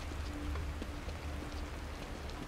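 Steady rainfall in the horror game The Evil Within, a continuous hiss of drops on surfaces with faint low rumble underneath, even and unbroken throughout.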